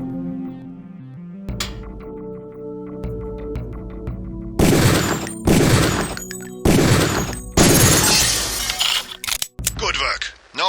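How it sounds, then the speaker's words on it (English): Gunfire in the Deus Ex training area as targets are shot: several loud, sharp bursts with crashing impacts over game music, each ending abruptly. "Release the second target and aim before shooting this time."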